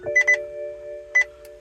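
A few short electronic dashboard warning beeps and chimes from a 2010 BMW X5 35d diesel on a cold start with low battery voltage sound over a steady tone, two quick ones, then another after a pause.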